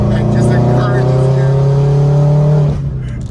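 A bagged Subaru WRX drives along under a steady, droning engine note that holds at an even pitch, then drops away near the end as if shifting through the gears.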